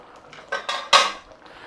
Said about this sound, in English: Lid off.